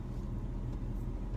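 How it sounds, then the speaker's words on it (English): Low, steady droning rumble inside the cab of a 2005 Dodge Ram 1500 fitted with a Flowmaster exhaust, cruising down the road, continuous and even with no voices. "you'll get a little bit of exhaust noise too, because I have a Flowmaster on it, so it is a little droning noise inside the cab here"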